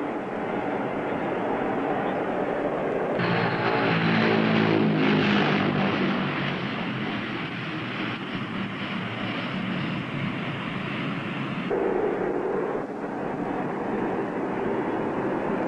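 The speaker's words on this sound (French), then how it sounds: "l'énorme avion, freiné par la puissante inversion de poussée de ses 8 hélices, se pose sur la piste de l'aérodrome de la capitale japonaise." A large eight-propeller airliner lands on a runway at the Tokyo airfield, its propeller drone suddenly surging into a loud, rough roar of reverse thrust that holds steady and then eases off, with no voices.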